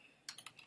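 Several quick keystrokes on a computer keyboard while an account name is entered, about three to four distinct clicks in a short burst against a quiet room.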